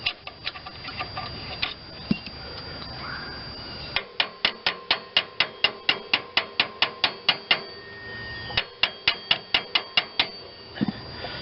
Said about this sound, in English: Shouldn't hammer on that